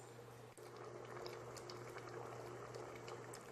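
A pot of Tirunelveli sodhi with lentils and coconut milk simmers at a steady, soft boil, giving a faint, even bubbling hiss that continues without a break.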